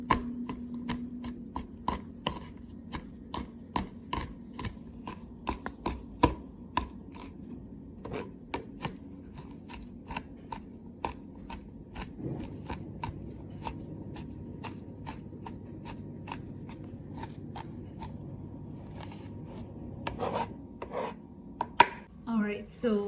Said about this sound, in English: And now for the 6 cloves of garlic, we can just cut it into thin slices like this.